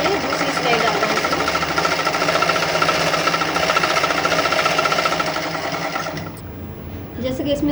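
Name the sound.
sewing machine stitching piping on a kurti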